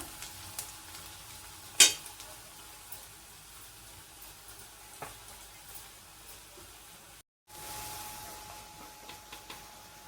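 Onion frying in oil in a home kitchen pan for a mixed vegetable dish, a soft continuous sizzle with occasional stirring clicks and a sharp scrape, no talking.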